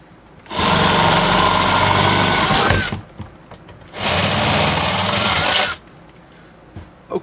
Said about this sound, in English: we're just going to drill all these out to 17/64